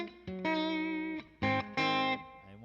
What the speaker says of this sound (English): I like that reverb, the 63 spring.